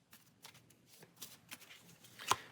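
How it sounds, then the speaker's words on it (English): A deck of game cards is given a quick shuffle at a tabletop session, a soft papery riffle of brisk flicks that ends in one sharp snap, faint and alone. "give it a quick shuffle,"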